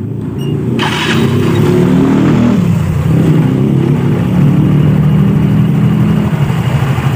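Yamaha Mio GT scooter, with the CVT cover off, starts with a short crank, then idles loud and close and revs up and down in a few swells before it settles, with no talk.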